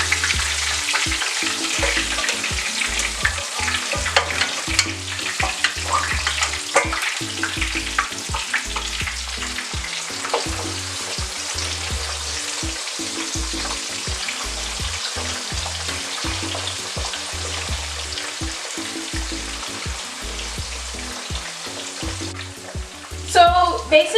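Chunks of pork griot sizzle and crackle steadily in hot oil, a loud, dense frying hiss with occasional stirring scrapes and no voices.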